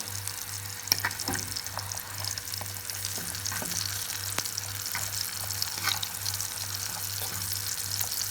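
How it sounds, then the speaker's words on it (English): Onions fry in leftover chicken oil with a continuous close sizzle, broken by scattered clicks and scrapes of stirring and a low steady hum underneath, no voices. "So I'm frying the onions first I'm frying it in the same oil that I used to fry"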